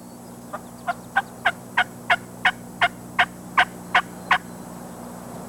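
A wild turkey gobbler gobbles in the woods, about a dozen evenly spaced, clear calls in a steady rhythm over a faint hum, at moderate distance with no talking.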